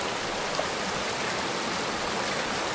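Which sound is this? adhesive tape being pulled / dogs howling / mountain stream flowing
mountain stream flowing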